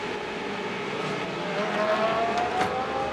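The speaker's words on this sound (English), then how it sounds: "So the Rinaldi Racing Ferrari is out there on circuit at the moment." A Rinaldi Racing Ferrari GT race car lapping the Moscow circuit during Blancpain Sprint Series free practice, its engine a steady distant drone with a rising whine as it accelerates, heard from trackside.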